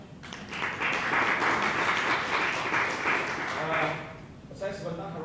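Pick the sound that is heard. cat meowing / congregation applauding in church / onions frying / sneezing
congregation applauding in church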